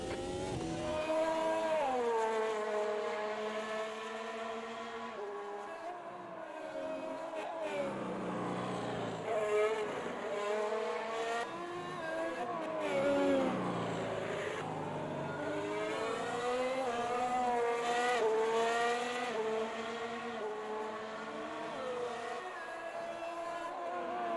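A 2022 Formula 1 car in the Automobilista 2 racing game screams through a qualifying lap, its loud engine revving up and down with repeated upshifts and braking dips, alone without talk.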